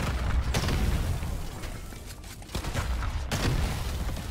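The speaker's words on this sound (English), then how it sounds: "I'm just gonna stand here for a second and just throw explosives everywhere." Repeated grenade explosions in Deep Rock Galactic Survivors, a continuous loud cluster of booms and pops with several sharper blasts standing out over a constant rumbling din.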